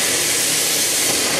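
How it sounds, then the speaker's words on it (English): Hot water poured into a risotto pan sends up a loud, continuous hiss of steam, close and steady for the whole moment. "we're just going to take our hot water and add"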